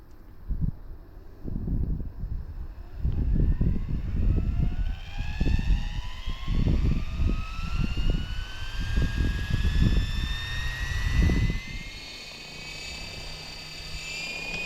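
Electric RC model airplane running the standard stock motor from its kit, producing a rising, whining buzz that pulses and surges in bursts, fairly loud and steady over about fifteen seconds.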